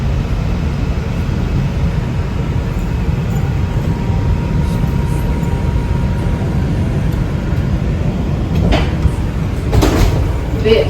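A Manhattan-bound 5 local subway train stands at a New York station, a steady low rumble and hiss with door thuds and clunks toward the end.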